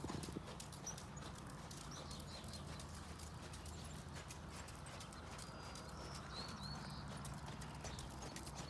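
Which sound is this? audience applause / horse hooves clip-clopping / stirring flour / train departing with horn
horse hooves clip-clopping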